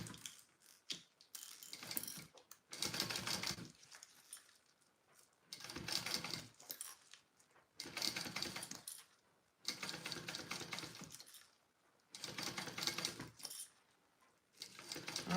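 A sewing machine bastes a zipper onto a petite rolltop backpack, running in repeated bursts of rapid mechanical stitching separated by short pauses, close and fairly quiet.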